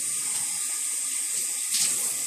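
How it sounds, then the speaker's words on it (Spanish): Water from a bathtub tap runs in a steady hissing stream and is splashed onto a face, with a brief louder splash near the end and no talk. "Me echo agua en toda la cara."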